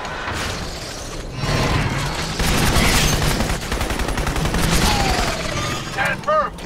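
Rapid bursts of automatic gunfire crackle through a Crysis firefight, dense and loud, with overlapping shots and booms; shouted voices break through the din.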